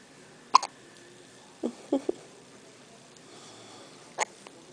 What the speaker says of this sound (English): She has the hiccups.